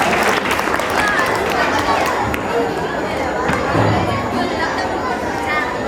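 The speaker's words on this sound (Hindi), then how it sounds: "तालियों से उनका भी स्वागत कीजिए।" Applause from a crowd at a school annual function held for Saraswati Puja, in Sitalpur, Saran, rolls on continuously, with background chatter and crowd murmur mixed under the clapping.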